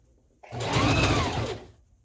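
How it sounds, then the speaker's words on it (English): Sewing machine running a single continuous stitching burst while sewing a closure wig, starting abruptly and holding a steady, close, loud whir for about a second and a half before stopping. "Keep sewing the bottom of the line, okay?"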